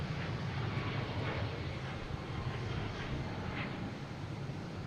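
United Airlines airplane at Boston Logan International Airport, a steady broadband engine roar that holds constant and loud throughout with no voices.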